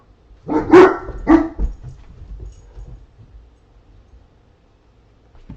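A dog barks twice in quick succession, loud and close, then quiet room noise with faint rustling follows.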